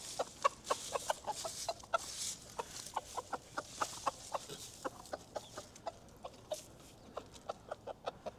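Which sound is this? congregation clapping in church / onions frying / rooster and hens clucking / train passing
rooster and hens clucking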